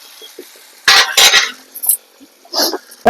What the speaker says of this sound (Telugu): కలుపుకుందాం ఇట్లా కింది పై పై కింది కలుపుకుంటే తొందరగా మగ్గిపోతాయి